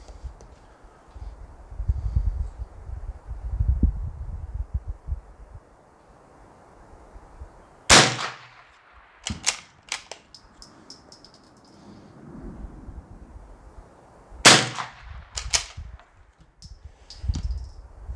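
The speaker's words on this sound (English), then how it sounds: "let's just do a few shots and then see where we go" Ten gunshots fired at a target 50 yards away outdoors, sharp loud cracks coming singly and in quick pairs with gaps between, each with a brief trailing echo, after a stretch of wind and handling noise.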